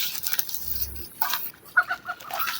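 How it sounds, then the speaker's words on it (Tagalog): A chicken clucks nearby in a short series of soft, irregular clucks over a quiet outdoor background, with no one talking. "manok"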